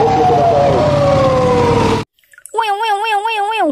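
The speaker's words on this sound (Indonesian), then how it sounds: "Yang ini ada mobil ambulan." A wailing toy ambulance siren rises and falls in quick sweeps after a burst of noisy rustling and a brief pause; loud and close.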